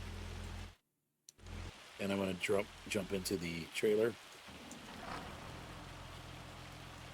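A steady hiss of hail and rain from the video game Farming Simulator 25 runs through the scene, briefly cutting out, then continuing under someone talking, fairly soft and even.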